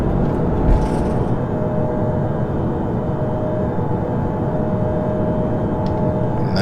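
Boeing 757 rolling for takeoff and rotating in Flight Simulator X, a steady loud broadband jet roar with a faint whine, continuous and close throughout.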